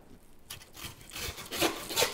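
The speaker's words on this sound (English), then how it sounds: "get our handsaw," A handsaw cuts through cow bone while separating the rib section from the chuck during a full beef breakdown, making rough, rasping strokes that start after a brief quiet moment and grow louder and steadier, heard up close with no talking.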